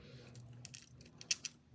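Small metal keys on a purse charm jangle briefly, a few light bright clinks over a low background hum, with two sharper chimes near the end.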